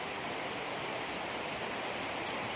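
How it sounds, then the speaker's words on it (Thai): Steady rain pours down outdoors, a dense, even hiss of drops with no breaks, moderately loud throughout and with no voices. "ฝนตกแต่ว่าตกบ่แห้งปานใด"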